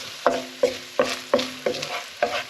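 Onions, with garlic, fry gently in a pan on low heat; six evenly spaced scraping stirs break through a soft sizzle, close by.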